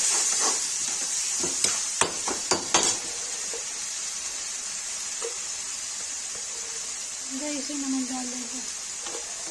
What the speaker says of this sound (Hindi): ये टमाटर डाल देंगे, इसको भून लेंगे